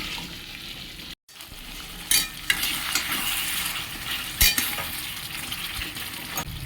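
Water with spice paste hits hot oil along with boiled jackfruit while cooking jackfruit khichuri, giving a loud sizzling hiss with stirring scrapes. After a brief silent gap, bursts of sharper frying flare up twice.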